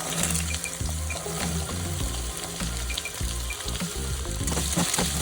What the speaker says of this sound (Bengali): আলুগুলোকে নাড়াচাড়া করে ভাজতে দেব।